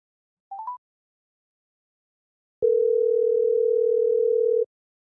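A telephone call tone: a few quick short beeps, a pause, then one steady, moderately loud tone held for about two seconds before it cuts off. No voices.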